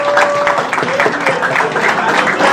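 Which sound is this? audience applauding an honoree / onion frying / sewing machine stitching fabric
audience applauding an honoree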